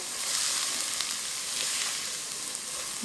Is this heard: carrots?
yes